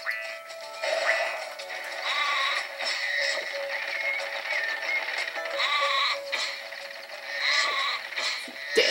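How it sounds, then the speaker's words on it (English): Cartoonish sheep bleating in the Spyro Enter the Dragonfly video game, several repeated wavering bleats among game effects and thuds, with no talking. "All these dang sheep."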